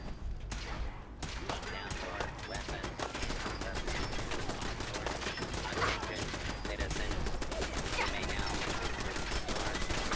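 Video game turret firing in rapid automatic bursts, dense continuous gunfire for several seconds, loud and close after a short quieter opening.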